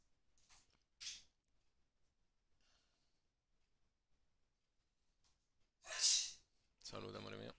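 A single sharp sneeze bursts out close by near the end, preceded by a couple of short breathy sounds, then followed by a burst of broadband noise during a quiet tabletop game session.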